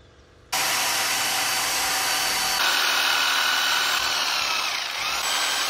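Power tool cutting through metal on a 1986 Chevy C10, a loud continuous whine that starts abruptly after a brief quiet moment and holds steady, shifting slightly in pitch partway through.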